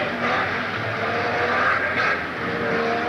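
Steady roar of race car engines at a speedway in Tasmania, a broad, continuous drone with a slight swell midway as cars pass; no talking.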